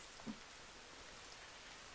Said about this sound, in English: Finally, it's raining.